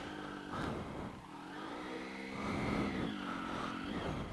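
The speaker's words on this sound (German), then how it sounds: "Sie fahren noch hinter mir her und ziehen Wheelies." Several motorcycles riding close behind a rider and pulling wheelies, their engines revving and rising and falling in pitch over a constant wind and road roar.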